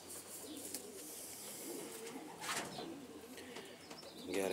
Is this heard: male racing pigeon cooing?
yes